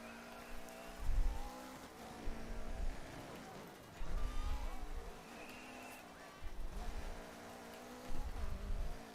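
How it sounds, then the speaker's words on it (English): A rally car driving in the video game DiRT 3, the engine rising and falling in repeated revving surges with gear changes, steady and close under no talk. "got a bit of oversteer there and went into the fence"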